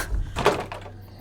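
A door creaks and thuds open in a dark Hindi horror audio story, a single short sound set against a quiet background.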